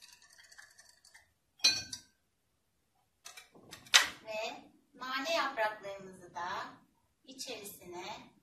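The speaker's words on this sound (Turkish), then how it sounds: "Biraz daha karıştırıyoruz." A spoon clinks against a glass of homemade lemonade in a few short bursts, close and light, between stretches of someone talking.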